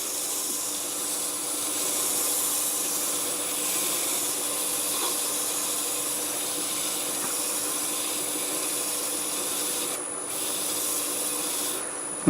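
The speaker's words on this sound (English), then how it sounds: "I will do it with the lathe going forward. I'm going to start out about the same 400 RPM, and we're just working that paste in." A wood lathe spins steadily at about 400 RPM while abrasive paste is rubbed into the turning workpiece, giving a continuous even whir and hiss with a faint high whine throughout.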